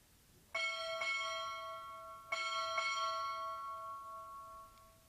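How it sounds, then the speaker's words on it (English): Four strokes of a ship's bell at a Navy boot camp graduation ceremony, struck as two close pairs, bright and ringing, the tone sustaining and slowly fading after each pair. "Time orderly, strike 4 bells."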